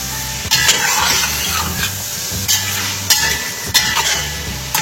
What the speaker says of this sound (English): we are frying the chicken